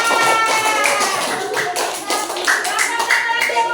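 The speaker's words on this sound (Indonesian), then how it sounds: "tepuk tangan buat kelompok 4" A classroom group applauds group 4 with brisk, dense clapping that keeps going for several seconds, close and fairly loud, with some voices mixed in.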